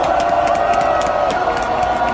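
Crowd applause at an outdoor political rally, a dense, steady wash of clapping and cheering held at a loud, even level throughout.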